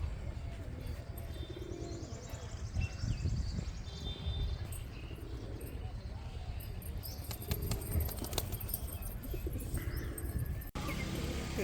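Household pigeons coo faintly amid a steady hum, with brief wing flaps and rustling partway through and no talk.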